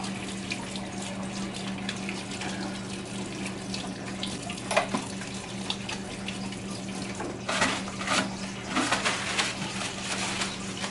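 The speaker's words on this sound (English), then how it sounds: "I'm going to wash my hands again" Tap water runs steadily into a kitchen sink while hands are washed under it during cooking, a constant close splashing stream with brief louder surges as the hands move.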